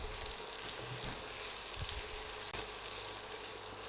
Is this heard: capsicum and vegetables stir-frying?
yes